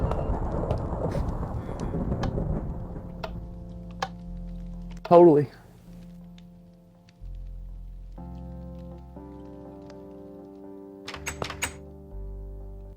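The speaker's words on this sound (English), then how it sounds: "Oh, that's one mean storm out there" Thunderstorm with rain in the game Minecraft, a low rumbling roll followed by a sharp thunder crack and rain hiss, with a voice speaking briefly and tonal game sounds layered through.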